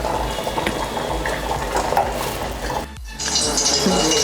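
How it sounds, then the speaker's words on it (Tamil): Chicken kurma gravy boiling in a pot, a close, steady bubbling and popping that dips briefly near the end before continuing loudly. "குழம்பு நல்லா கொதிச்சிருச்சு."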